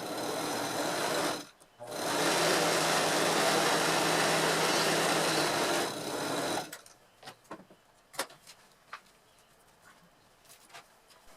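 A sewing machine stitches a seam in one long steady run of about four seconds after a brief start, then stops, leaving faint clicks and handling noises nearby.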